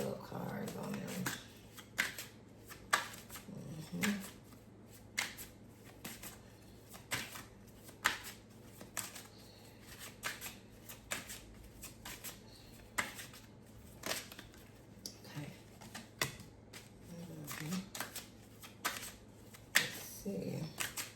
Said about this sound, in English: Let's get some love cards on them.